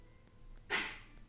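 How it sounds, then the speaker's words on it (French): A single short, breathy burst from a dog, a quick cough-like huff, over quiet background. "C'est mon chien, c'est Chanel qui tousse."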